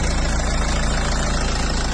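A Hyundai Santa Fe with a 2.2-litre CRDI 16-valve diesel engine idles steadily nearby, a loud, continuous low rumble with a faint knocking texture and no voices.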